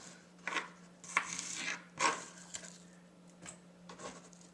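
A kitchen knife quartering onions on a cutting board for a gluten-free dish, giving a handful of sharp, irregular chops and knocks against a low steady hum, moderately faint.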